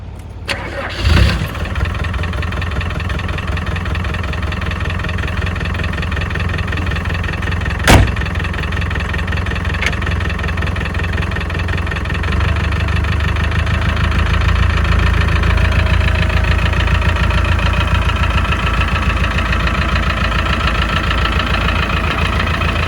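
A car engine cranks and catches, then settles into a steady, loud idle that runs on alone at close range.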